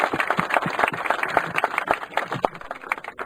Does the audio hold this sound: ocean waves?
no